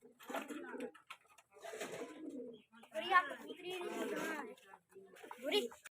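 Soft, repeated pigeon coos in a close, steady sequence, with no clear talk around them.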